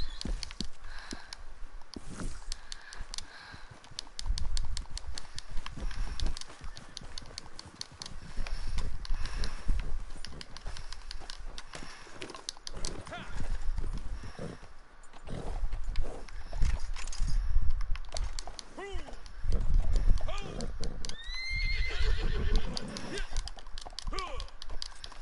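A horse in the Red Dead Redemption 2 video game gallops with rapid, repeated hoof clops that come in surging bursts, with occasional whinny-like cries and a player talking throughout.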